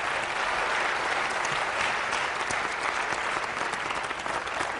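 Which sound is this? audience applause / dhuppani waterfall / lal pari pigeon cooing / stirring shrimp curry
audience applause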